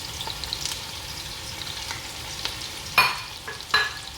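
Pork fat sizzling hot in a pan as onions, ginger and garlic fry, a dense continuous crackle with a couple of louder scrapes and clatters near the end.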